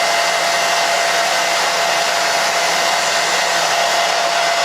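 A hair dryer blasts continuously and loud at close range, blowing down a synthetic wig, a steady unbroken airy roar with no voices over it.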